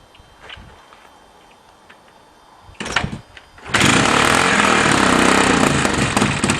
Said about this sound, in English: First start of 2010, my 78 XL 250.